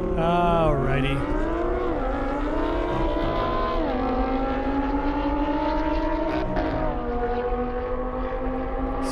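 An Audi R8 race car at an airstrip drag event, its engine roaring loud and close with steady, rising pitch sweeps as it revs and pulls for the full stretch.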